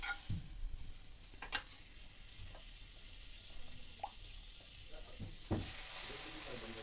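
Buttered bread slices fry in a pan for French toast, giving a faint, steady sizzle with a few soft clinks and scrapes scattered on top.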